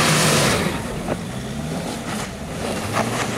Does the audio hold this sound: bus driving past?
yes